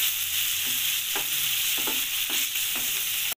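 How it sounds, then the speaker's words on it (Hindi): Chicken pieces fry in garlic in a pan with a constant loud sizzle, broken by several soft scraping stirs at a regular pace. "तो चिकन को हम फ्राई करेंगे तब तक जब इसका कलर चेंज हो जाए"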